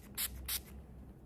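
Makeup setting spray from a drugstore bottle, two quick hissing pumps of aggressive mist in succession, close and fairly quiet, followed by stillness.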